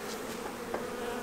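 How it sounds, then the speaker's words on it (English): Bees buzzing at a hive entrance after a winter storm, with several of them on the snow. A faint, steady hum is heard alone, with a few brief louder passes. "There's several bees in the snow right there at the entrance on all of our colonies."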